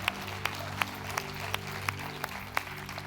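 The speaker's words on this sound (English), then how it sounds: "Can we just do a hand clap for those that made that decision tonight?" A church congregation claps hands together in a steady, even rhythm of sharp claps about three per second, over a continuous crowd murmur in a large hall.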